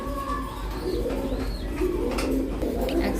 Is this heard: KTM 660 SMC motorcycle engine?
no